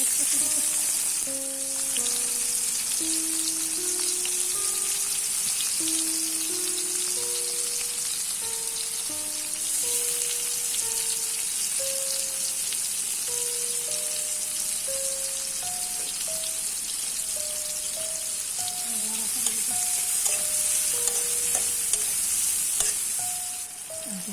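Shrimp frying in a pan for a Bengali shrimp and tomato curry, with a continuous sizzle and occasional stirring under a steady tonal hum, soft speech now and then.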